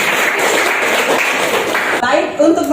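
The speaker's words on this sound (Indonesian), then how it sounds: "Tepuk tangan." Classroom applause from students during an Indonesian history lesson, a steady dense patter of many hands clapping that thins out toward the end.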